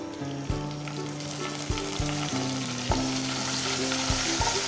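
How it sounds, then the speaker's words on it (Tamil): Green chillies and curry leaves fry in hot oil in a pan while cooking aloo biryani, giving a loud, steady sizzle with regular stirring knocks about once a second. "மிளகாய், கருவேப்பிலை, அதுக்கப்புறமா வெங்காயம் ஆட் பண்ணி நல்லா ஃப்ரை பண்ணிக்கலாம்"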